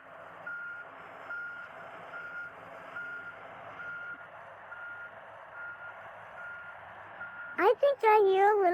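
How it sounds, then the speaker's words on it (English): A backhoe creeping along on steel tracks sounds its reversing alarm, a steady series of regular beeps over a low engine rumble, before a voice speaks at the end. "The backhoe's raising its bucket high into the air and creeping along on its steel tracks"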